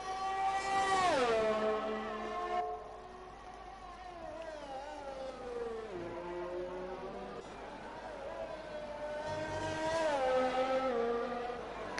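Race car on soft tyres starting a lap, its engine note climbing and dropping through repeated gear changes with a second rise near the end, loud and close under commentary voices.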